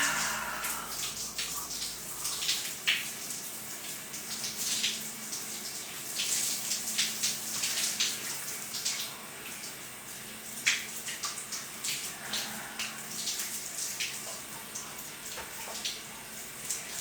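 Water runs steadily from a tap, splashing continuously at close range while a body scrub is rinsed off before a bath, with no talking heard.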